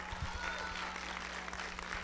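At a civic event, an audience claps for a philosophy professor being introduced, a faint and distant patter of applause over a low steady hum.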